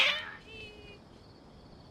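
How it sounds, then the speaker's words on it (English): Cats meow in a video game, a loud, sharp meow at the start trailing into fainter drawn-out tones, with a thin electronic hum beneath. "Your cats seem pretty worked up"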